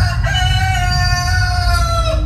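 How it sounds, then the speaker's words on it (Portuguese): A rooster crows loudly and close, one long sustained call lasting the whole moment over a low rumbling background, heard during a staged Passion of Christ scene. "Neste momento, canta o galo."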